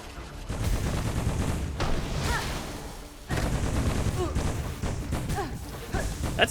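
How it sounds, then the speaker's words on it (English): Repeated video game explosions, booms and blasts crash in bursts, with rapid gunfire-like crackles and dull thuds, loud and dense, separated by a brief lull. "This is a lot of explosions."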